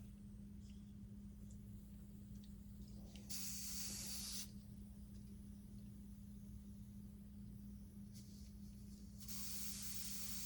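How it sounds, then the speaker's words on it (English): Two short bursts of airbrush paint spray, each hissing for about a second, over a steady low compressor hum, close and fairly quiet, with no talking. "feed it right back into the airbrush"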